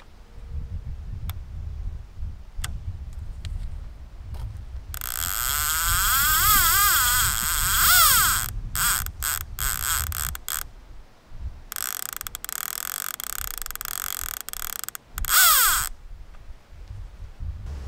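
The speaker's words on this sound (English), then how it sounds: "The Catfish Pro has a similar sound to the Purple Haze Rocket and can be heard from several feet away as well." A Catfish Pro fishing reel bait clicker ratchets in bursts of rapid, rasping clicks, pulsing and wavering, with quieter pauses between runs, close and alone.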